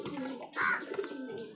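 A large pigeon gives a short, close coo in the middle of a steady low murmur of background noise, with no talking.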